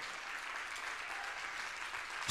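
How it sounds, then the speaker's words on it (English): A church congregation claps their hands, a soft, steady wash of many hands clapping at a distance, fairly quiet and continuous. "Clap your hands, people."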